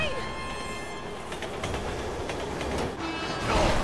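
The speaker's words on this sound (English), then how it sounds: "Look out! Train!" A train rumbles past in a video game, a steady loud roar of rail noise with rising intensity near the end. Voices are heard over it.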